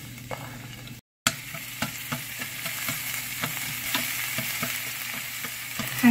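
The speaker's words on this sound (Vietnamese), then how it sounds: "Dầu ăn nóng với cho hành tím đã băm rồi" Minced shallots sizzling in hot cooking oil, a steady crackling fry with occasional sharp pops and a brief silent gap near the start.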